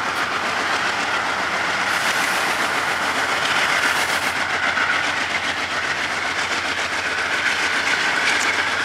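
CSX freight train rolling past nearby, a continuous loud rumble with rhythmic clickety-clack of wheels over rail joints and a steady engine drone throughout, no voices.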